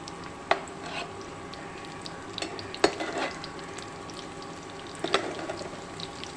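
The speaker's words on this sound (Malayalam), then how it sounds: "നമുക്കിനി ഓരോ വടയുടെ മാവ് അതിലേക്ക് ഇട്ട് കൊടുക്കാം." Jackfruit seed vada batter fries in hot oil, a quiet steady sizzle and bubbling with occasional sharp clinks and scrapes of a utensil stirring in the pan.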